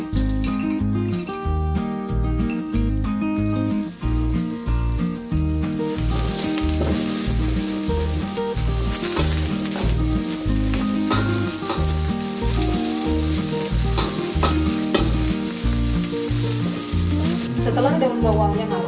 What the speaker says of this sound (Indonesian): kita masukkan bawang bombay yang sudah diiris-iris